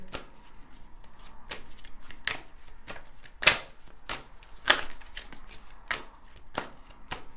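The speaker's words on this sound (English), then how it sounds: "now I'm going to shuffle these cards" Tarot cards are shuffled in steady, crisp riffling bursts about every half second to second, close and fairly loud with a few sharper snaps, and no talking.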